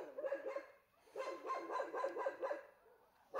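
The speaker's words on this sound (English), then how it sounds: "dogs just don't shut up." Several dogs bark repeatedly in bursts, fairly close and loud, with short pauses between volleys and a brief final bark.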